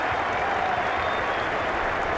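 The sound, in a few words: cricket crowd applauding at Trent Bridge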